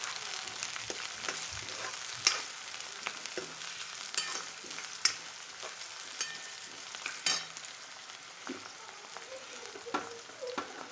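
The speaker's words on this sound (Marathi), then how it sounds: "आता यामध्ये आपण शिमला मिरची घालूया। याला पण थोडी परतून घेऊया।" Capsicum sautéing in a pan for homemade noodles, a steady broadband sizzle with scattered sharp clicks of a utensil against the pan, several louder taps standing out, close and alone without voices.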